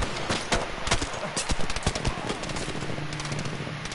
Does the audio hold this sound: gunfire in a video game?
yes